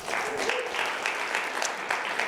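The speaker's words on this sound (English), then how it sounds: "give yourself a round of applause, please." Conference audience applauding themselves at a tech talk in Alabama, a steady wash of clapping with a few sharper individual claps, fairly loud and continuous.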